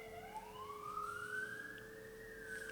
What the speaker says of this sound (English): there's bloody sirens going off in the background